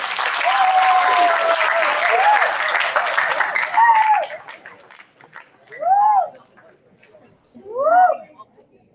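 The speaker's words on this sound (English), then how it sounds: "Let's give her a round of applause." A school audience at a middle school outreach event applauds, a dense burst of clapping that fades within a few seconds, followed by talking.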